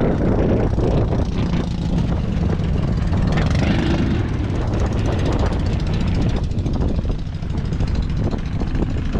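Service boat engine running on a loaded sea trial, a loud continuous rumble mixed with heavy wind buffeting the microphone throughout.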